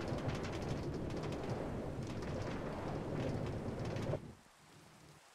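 A Minecraft thunderstorm of steady, dense rain with deep rolling thunder rumbles for about four seconds, then drops abruptly to a much quieter hiss.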